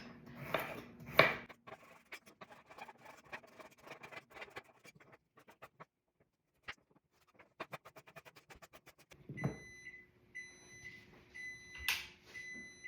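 A kitchen timer for a baking spinach artichoke dip goes off during home meal prep, sounding a run of thin, repeated electronic beeps near the end among faint kitchen clatter and knocks.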